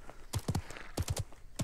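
Horse hooves in the Realm Royale battle royale game clop in a quick, irregular run of soft thuds, close and fairly quiet.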